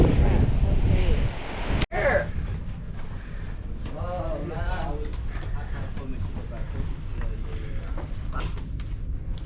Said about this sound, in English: I like these waves right now.